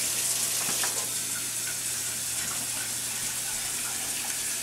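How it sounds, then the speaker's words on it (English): Cold tap water runs steadily into a cooking pan for rinsing, a continuous close hiss and splash with no pauses and no talking. "rinse your pan out with really cold water"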